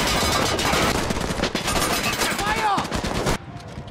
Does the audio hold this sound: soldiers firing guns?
yes